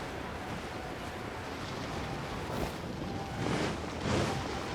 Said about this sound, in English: The sound of the waves in this familiar port